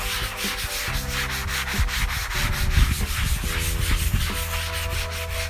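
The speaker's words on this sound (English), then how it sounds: "The first thing I'm gonna do is just wet my sponge and just scrub." A wet sponge scrubs old seasoning off a griddle in rapid, steady back-and-forth strokes. The rasping is close and continuous over a low hum.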